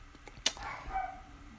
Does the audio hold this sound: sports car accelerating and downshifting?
no